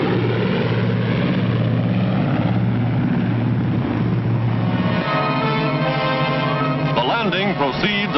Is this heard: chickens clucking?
no